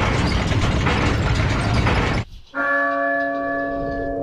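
A church bell mechanism in Resident Evil 4 clanks through a loud ratcheting, gear-grinding run, breaks off, then a struck bell rings out with a sustained, sharply pitched tone that slowly decays.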